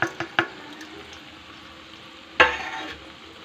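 Spice powder fries in a pan for an okra and tamarind curry under a soft, even sizzle. A few sharp clinks of a spoon come at the start, and a louder scrape follows partway through, all heard close up.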